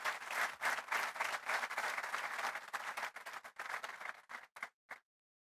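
An audience at a summit opening ceremony gives warm applause for performers, a full round of clapping that thins into scattered individual claps and stops abruptly.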